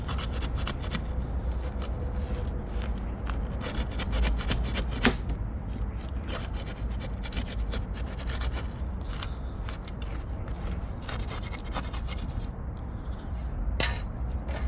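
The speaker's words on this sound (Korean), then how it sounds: "그래갖고 이렇게 살살 돌려주면 구멍이 생기는 겁니다" A tool is twisted slowly to bore a hole in a plant pot, giving faint, steady scratchy scraping and clicking that repeats in a rough rhythm throughout.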